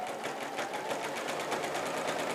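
A sewing machine with a walking foot stitches straight quilting lines at high speed, a steady, even, rapid mechanical chatter that runs close and unbroken with no talking.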